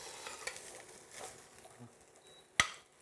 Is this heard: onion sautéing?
yes